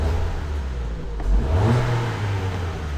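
A warm Ford Fiesta engine idling close by, then revving up in a single rising swell before settling back to a steady hum, heard alone without voices.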